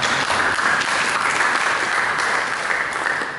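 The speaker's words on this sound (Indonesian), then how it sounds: "Berikan tepuk tangan bagi Yesus." A church congregation claps together during a sermon, producing a steady, dense wash of applause that holds evenly for a few seconds before tapering slightly.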